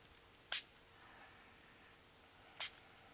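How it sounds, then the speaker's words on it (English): Two short, sharp hisses of a hand sprayer misting water onto Brusho crystal colour powder, spaced about two seconds apart, close and distinct against a quiet room. "But watch what happens when you spray this."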